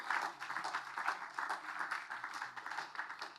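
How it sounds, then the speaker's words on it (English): An audience at the end of a talk claps steadily in a room, a soft, continuous patter of many hands at moderate distance, fairly faint and even throughout. "you can applaud"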